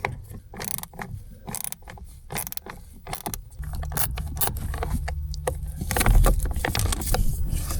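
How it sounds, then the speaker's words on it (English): A small 8mm ratchet works a bolt loose on a Ram ProMaster van, giving rapid clicking strokes close up, with a low steady hum and rustling building underneath toward the end. "So grabbing a small ratchet with 8mm make the job doable."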